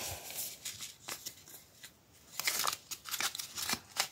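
A sticker package is torn open by hand, with a series of sharp crinkling rips and rustles of plastic wrapping in uneven bursts, close and quiet, with no talking.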